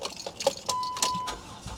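A 2007 van with 257,000 miles cranks briefly and catches, settling into a steady mid-pitched idle, fairly quiet and close, with a faint jingle of keys at the start.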